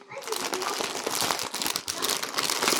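A cross-stitch kit being pulled from a zipped plastic pouch makes a continuous, close crinkling and crumpling of plastic, with a voice talking underneath.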